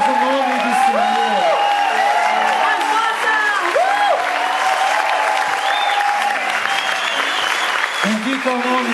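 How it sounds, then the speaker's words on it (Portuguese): A church congregation applauds steadily throughout a worship service, dense sustained clapping mixed with cheers, while a voice carries on over the crowd. "Pode aplaudir nosso Deus, aplauda, Senhor."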